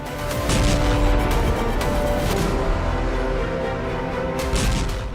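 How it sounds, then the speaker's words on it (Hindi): An Israeli explosion blast on Gaza in a war news report: a loud, dense, sustained rumble with crashing, crackling debris that fills the whole stretch without letting up. "दुश्मन पर इजरायल का तीसरा धमाका।"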